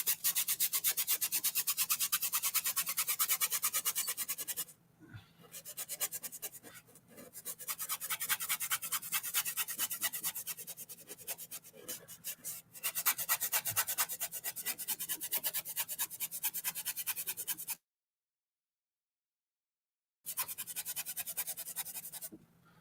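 Art media is rubbed off a drawing with fast, scratchy back-and-forth strokes, like brisk scrubbing on paper, close and continuous in long bursts with a few brief pauses and one silent gap.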